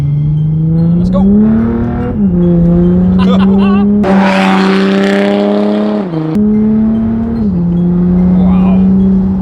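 Straight-piped 300 BHP Audi A5 TDI diesel accelerating hard from inside the car, a loud droning exhaust that climbs in pitch through several gear changes, with people talking over it.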